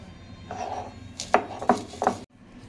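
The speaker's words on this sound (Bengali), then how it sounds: "এবার বেটে নেব হচ্ছে আদা রসুন" Ginger and garlic being ground into a paste by hand on a stone while cooking chicken korma, a scraping rub followed by three sharp knocking strokes, close and distinct, with no talk.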